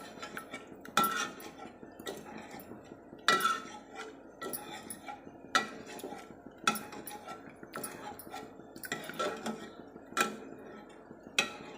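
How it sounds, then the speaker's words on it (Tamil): A ladle repeatedly mashes cooked dal and vegetables inside a pressure cooker for idli sambar, giving close, regular clinks and scrapes of metal on metal every second or so, with soft squelching between strikes and no talking. "இந்த கரண்டியால் நல்லா மசிச்சு விட்டுக்கலாம்."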